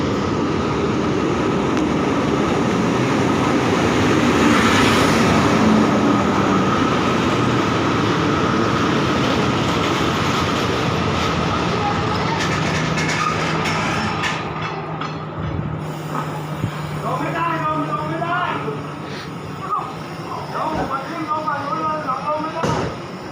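An express passenger train departing a station rumbles and clatters steadily for a long stretch, then the noise eases and voices and other activity come through nearby.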